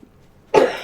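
A single sharp, close cough bursts out after a brief quiet moment.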